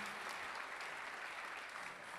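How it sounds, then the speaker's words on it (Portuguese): An audience claps steadily for a choir at a formal session, a dense, even wash of applause from many hands that fills the whole moment without any voices on top. "Vocês podem aplaudi-los aqui, por favor?"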